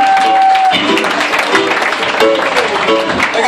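Audience applause at a live reggae concert at Oasi San Martino, a dense wash of clapping and crowd noise over a held tone that fades early, with voices mixed in throughout.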